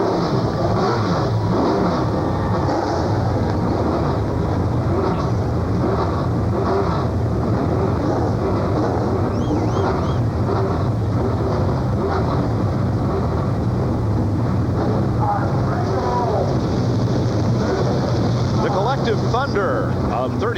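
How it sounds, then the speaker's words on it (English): A field of 36 ASA race cars at I-70 Speedway in Odessa, Missouri, rumbles and revs in a dense, steady engine roar, with a public-address voice talking over it. "Thunder of 36 race car engines now fills the air in the state of Missouri"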